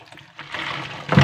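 Water splashes and trickles briefly inside a hot enclosed space, a short close wash of liquid that swells into a louder gush at the end.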